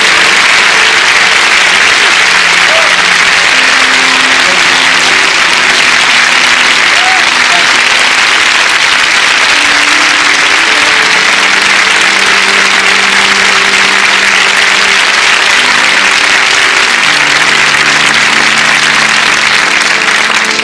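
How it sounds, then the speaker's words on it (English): An audience applauds Mrs. Rosa Parks in a loud, continuous hiss of many clapping hands lasting twenty seconds, with a faint steady tonal hum running underneath. "Let's give Mrs. Rosa Parks a round of applause, if you please."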